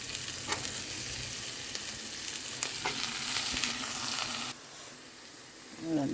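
Okra curry fries in plenty of oil in an open pan, a steady broadband sizzle with a few stirring scrapes and a brief drop in intensity near the end.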